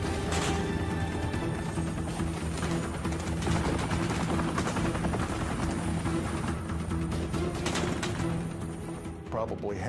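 A Sikorsky UH-60 Black Hawk helicopter drones loudly and continuously with rotor thumping, under dense battle noise and gunfire, with someone speaking over it.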